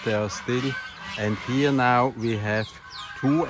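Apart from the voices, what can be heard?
geese honking in the background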